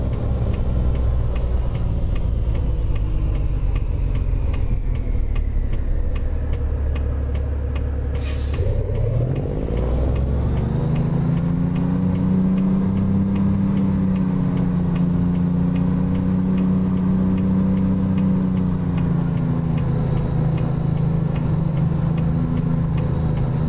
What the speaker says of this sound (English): Wilson engine mod is very similar to Creech Bombs.